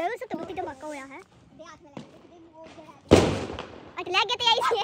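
Diwali firecracker bursts with a single sharp loud bang mid-clip, set between stretches of close conversational talk in Hindi.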